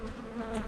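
A dense, steady hum of many honeybees buzzing close by inside a hive of a queenless colony, a continuous droning tone without pause.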